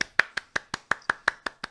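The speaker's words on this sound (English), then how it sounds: "We're clapping." A small group claps along while watching The Mandalorian, ten quick, evenly spaced hand claps, close and crisp with no talking.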